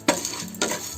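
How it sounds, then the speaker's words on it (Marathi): Cumin, fennel seeds, chana dal and rice grains dry-roast in a pan; two quick scraping stirs sound close over a faint background hiss. "आता हे सर्व थोडं भाजून घ्यायचं"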